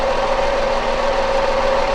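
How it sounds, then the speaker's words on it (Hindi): A Tata Tiago car engine idling on old spark plugs, a steady close droning hum with a constant tone and no breaks, heard alone. "एंड इंजन तो भाई देख ही सकते हो पूरा का पूरा काँप रहा है।"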